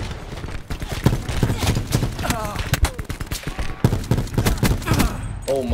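Rapid gunfire from weapons in the Black Ops 4 video game, dense repeated shots and bursts at close range running throughout, loud and sharp, with brief talk in the background.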